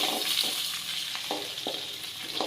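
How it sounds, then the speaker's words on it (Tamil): Small onions (shallots) sautéing in a pan for a home-style Kumbakonam dish, a steady close sizzling hiss broken by several soft scraping stirs at irregular intervals. "வெங்காயம் நல்லா வதங்கட்டும்."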